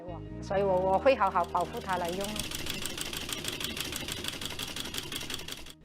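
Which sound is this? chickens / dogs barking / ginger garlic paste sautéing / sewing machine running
sewing machine running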